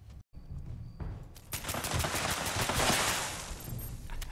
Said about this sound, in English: He had a shot at me, didn't hit me